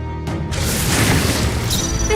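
A fire spell explosion in the Metaphor ReFantazio fantasy role-playing game, a loud dense whooshing blast with a crackling, roaring body that stays strong across the moment.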